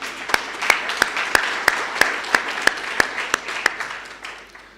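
Applause from an audience at the official opening and renaming ceremony of the Ibhayi building, honouring the Executive Mayor: a steady wash of many hands clapping with regular sharper claps standing out, fading slightly toward the end, no talk.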